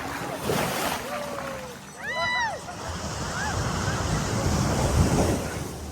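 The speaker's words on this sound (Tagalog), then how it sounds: "Lakas ng alon." Strong surf breaking on a resort beach at Morong, Bataan, a steady roar of waves with wind buffeting the microphone and brief voices or calls in the middle.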